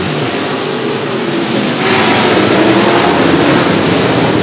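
Race cars accelerate away on a green flag at a raceway, a loud, dense engine roar that swells partway through and then holds steady, heard from a distance with no gaps.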